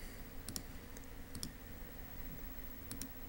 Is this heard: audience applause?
no